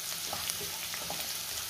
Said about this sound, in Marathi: पुन्हा सगळं व्यवस्थित मिक्स करून घेऊया